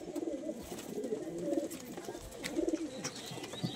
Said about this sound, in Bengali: এই হচ্ছে টোটাল পায়রা